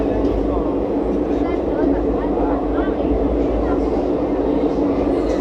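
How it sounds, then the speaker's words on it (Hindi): Steady rolling rumble of an Indian intercity express train running into Salem Junction in Tamil Nadu, heard continuously from close by inside the moving coach. "ट्रेन अपनी पहुंच चुकी है भाई साहब तमिलनाडु के स्टील सिटी यानी सेल्लम में"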